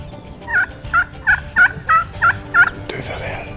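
A wild turkey gobbles in a rapid series of seven or eight loud, warbling calls, close by, ending in quieter rustling.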